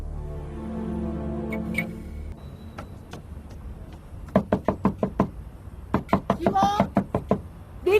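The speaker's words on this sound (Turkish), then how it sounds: "Aç kapıyı Sabriye." Sharp knocks rap on a door in quick clusters, loud and close, following a stretch of low hum and earlier scattered taps, in a Turkish drama scene.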